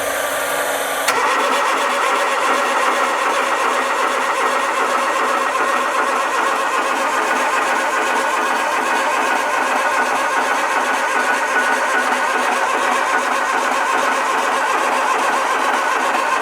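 A trawler's diesel engine aboard the boat, fitted with a massive turbo, cranks briefly and fires, then runs in a loud, steady close-up drone for the rest of the clip, with no talk over it.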